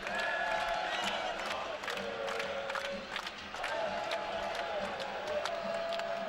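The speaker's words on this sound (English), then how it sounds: "Finally, though, something for those supporters to cheer about." Supporters cheer and whoop steadily through a women's CEV volleyball match between Dinamo Kazan and Fenerbahce in an indoor arena, with a dense, continuous roar that briefly dips midway, sharp whistles and shouts rising above it.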